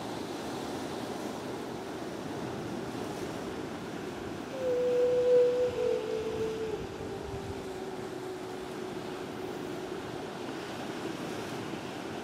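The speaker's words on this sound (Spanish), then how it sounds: "puede ser por el ruido que hacen las olas" Ocean waves breaking on a shore, a continuous broad rushing surf with wind, swelling briefly louder midway, with a faint tonal whine layered over it; no voices.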